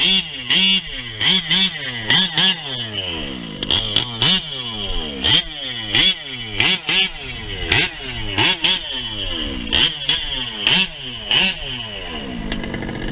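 A 1/5 scale nitro RC car engine being checked at idle, a loud close-up buzzing two-stroke chatter broken by a steady series of short throttle blips that rise and drop back roughly every second.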